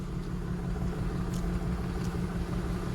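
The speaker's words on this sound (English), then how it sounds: "Driving down the hill after the paperwork." A car rolls downhill in windy conditions, giving a steady, low engine hum and road rumble close by, with a couple of faint higher noises passing over it.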